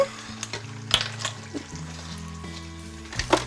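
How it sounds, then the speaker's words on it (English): Pork belly with fermented red bean curd, wood ear and Chinese rice wine gets a quick stir in a wok, with a low sizzle underneath a few scraping taps from the spatula, close and brief with no voices. "give it a quick stir, and it's done"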